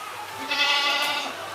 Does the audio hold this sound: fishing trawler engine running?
no